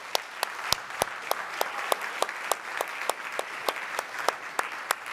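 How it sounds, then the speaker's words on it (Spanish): A church congregation claps together in a steady, rhythmic beat, each sharp hand clap evenly spaced over a continuous wash of crowd applause. "Un aplauso."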